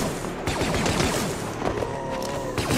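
Dense blaster fire in the Star Wars Deathtroopers video game, continuous overlapping zaps and shots with loud booming impacts, busy and close throughout.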